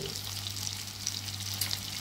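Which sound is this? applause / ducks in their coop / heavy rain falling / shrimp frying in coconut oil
shrimp frying in coconut oil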